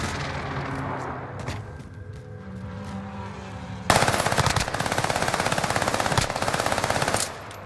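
Submachine gun fire crackles in a shooter video game, a near, loud sustained burst of rapid rounds erupting halfway through after quieter background din.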